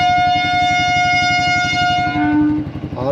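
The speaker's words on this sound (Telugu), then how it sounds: "లోకల్ ట్రైన్ వస్తుంది." A local train's horn blares loud and close in one long sustained blast, fading out near the end with some rumble beneath.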